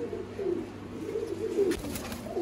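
Low, throaty coos from a crossbred pair of pure Imam Deen and Indian Surkhi pigeons roll on steadily and close by, with a faint rustle near the end.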